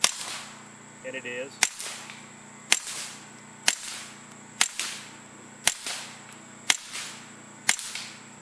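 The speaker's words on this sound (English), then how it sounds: "clearly hear the action of the pistol in that, but again, that's extremely quiet" Suppressed .22LR pistol firing CCI standard velocity rounds through a Griffin Armament Optimus silencer, eight evenly spaced sharp cracks about one second apart, each with a short mechanical clack of the action and a brief decay, outdoors with a steady background hum.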